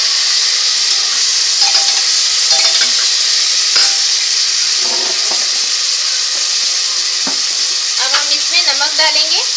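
Mutton pulao is stirred in a frying pot, giving a continuous loud sizzle with scraping spoon strokes against the metal and occasional clinks, close up and without talk.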